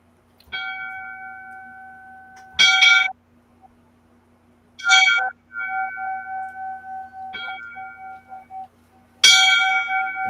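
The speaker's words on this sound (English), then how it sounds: "I'm going to give the 5 bells, but these 5 bells also go for Keith tonight." Fire department tribute bell rung in slow, deliberate strikes, each ringing tone sustained and decaying before the next, loud and close with no talk over them.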